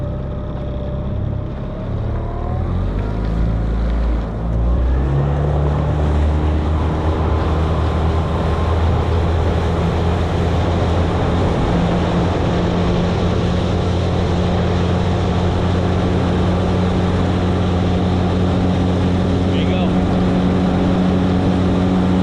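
A Gheenoe LT boat with a 9.9 outboard motor accelerates from idle, its loud, close engine drone rising steadily in pitch and staying continuous over water noise.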